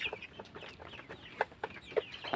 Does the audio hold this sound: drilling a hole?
no